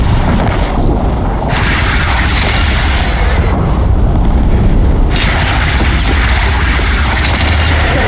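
Cannon fire during a machine battle in the video game Horizon Zero Dawn, heard as loud, continuous booming blasts and rumbling explosions that fill the whole stretch with no pause.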